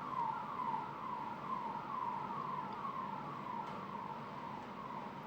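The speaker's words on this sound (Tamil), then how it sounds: "2வது ஆம்புலன்ஸ், ட்ரிபிள் கன்ஃபர்மேஷனுங்க." An ambulance siren wails in a steady repeating rise-and-fall cycle, loud and continuous with no voices over it.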